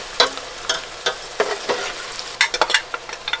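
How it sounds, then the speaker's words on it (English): Vegetables softening in melted butter in a stock pot are stirred, with soft sizzling and a series of scraping, clinking strokes of the utensil at an uneven rhythm, heard close. "I put a cube of butter into my stock pot and then added my veggies"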